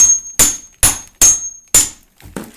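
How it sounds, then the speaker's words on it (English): A hammer strikes big chunks of pure palm oil to break them up for candle making, giving five sharp, loud, close knocks at an irregular pace with nothing between them. "we got to break up the palm oil"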